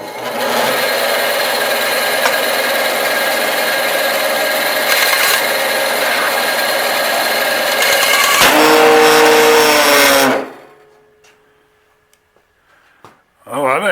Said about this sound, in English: I think I'm going to trim off some of this excess on the bandsaw though.